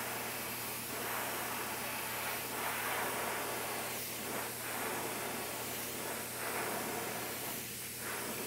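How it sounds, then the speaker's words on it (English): Steady hissing spray from a paint spray gun laying down color on a 1/4 scale Aquaman figure, a continuous airy rush with slight pulses as the trigger eases, alone with no voices. "I like to keep a paper towel handy so I can make sure I'm still spraying color."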